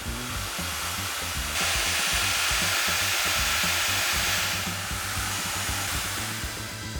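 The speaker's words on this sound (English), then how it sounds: "Drill the holes." A power drill whirs continuously while drilling holes during assembly of a plastic shredder, with a higher-pitched, harder grinding section in the middle before settling back to a steady hum.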